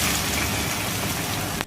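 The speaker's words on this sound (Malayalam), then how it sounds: "ഇതിലേക്കൊരു 1/4 കപ്പ് വെള്ളം കൂടി ചേർത്ത് കൊടുക്കാം." Water is poured into a hot pan of sizzling chana chilli sauce, giving a dense, loud hiss that rises and holds steady, then cuts off abruptly near the end.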